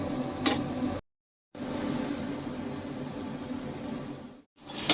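Red amaranth greens sizzle and fry in a pan while being stirred, a steady close crackle broken by two brief cuts to silence.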